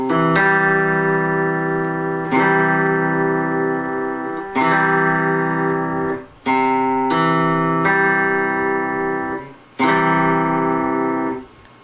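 An electric guitar chord strummed six times at an even, unhurried pace, each chord ringing out with sustain before the next. No voices.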